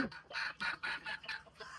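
A hen clucks on a poultry farm where she has laid eggs, in a quick series of short, throaty calls, close by and fairly soft, with brief pauses between.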